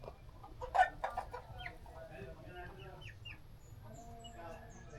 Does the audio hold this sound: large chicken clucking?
yes